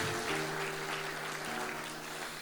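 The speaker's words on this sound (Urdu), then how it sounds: "زوردار تالیاں خدا کے لیے." A church congregation gathered for a New Year 2023 service claps loudly, dense sustained applause close by, with a faint held tone running underneath.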